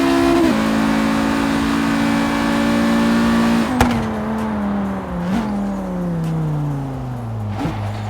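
A 1995 Audi RS2 Avant engine in Forza Horizon 3 holds a loud steady high-rev drone, then drops and falls through a series of gear shifts, the pitch sweeping down after each short burst.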